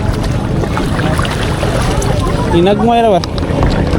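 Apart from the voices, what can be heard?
strong wind while kayak fishing at sea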